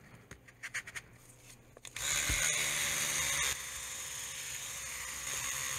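A toothbrush scrubs a Dewalt drill coated in Krud Kutter cleaner, first a few short taps and strokes, then continuous close, hissy brushing that steadies and carries on without talk.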